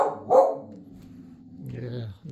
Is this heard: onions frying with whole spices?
no